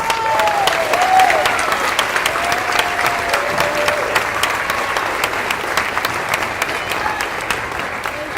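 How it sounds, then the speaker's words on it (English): An audience applauds the Native American Student Services staff team at a school district student recognition event, with steady, dense clapping that holds loud and even for several seconds, without talk. "Let's give them a round of applause."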